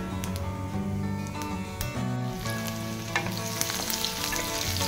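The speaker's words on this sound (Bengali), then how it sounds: "কালো জিরা ফোড়ন দিয়ে দিচ্ছি" Chopped garlic and nigella seeds sizzle and crackle in hot oil as a tempering for red amaranth greens, a steady close frying hiss with occasional pops and stirring clinks, no talk.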